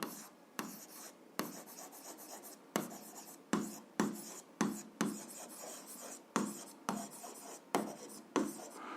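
Pen strokes scratch steadily across paper as a physics formula for buoyant force is written out by hand, a close, quiet rhythm of short scribbling bursts separated by brief pauses, with no talking.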